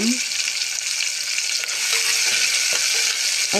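Ingredients for khuska kurma frying in a pan over a low flame make a steady, close hiss of sizzling oil, with light stirring clicks and no voices.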